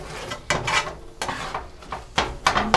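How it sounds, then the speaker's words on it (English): A utensil scrapes and pushes scrambled eggs around a hot pan in a series of close, rough strokes, with wooden and metallic scuffs repeating irregularly every half second or so. "I'm just going to try to scrape it around."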